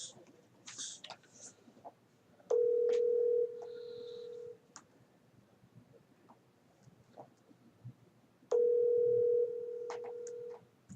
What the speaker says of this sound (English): Calling Congressman Lone. I think this is his cell phone number